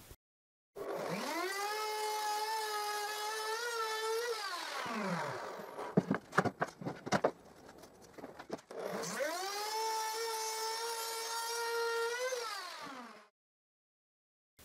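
A router cuts a groove into the head of a wooden tongue-and-groove flooring plank held in a simple jig, whining loudly in two long passes that spin up and wind down, with a rattling clatter between them.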